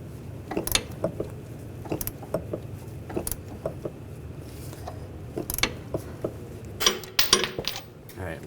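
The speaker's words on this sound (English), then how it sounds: "we're going to use an 18mm wrench on the nut. And on the stud, we're going to use a triple square socket." A wrench and a triple square socket work a spinning strut nut on a 2009-2017 Volkswagen Tiguan, making irregular metallic clicks, ratcheting and clanks close by, with bursts of busier clatter toward the end.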